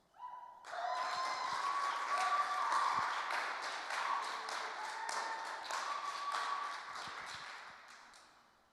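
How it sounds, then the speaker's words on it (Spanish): Church congregation applauding at a Spanish-language worship service, a burst of dense clapping that swells quickly, holds steady for several seconds, then fades out. "Ese aplauso era para mí"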